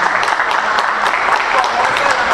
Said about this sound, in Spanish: Vamos a dar un fuerte aplauso a nuestros deponentes para comenzar con Cuarzo.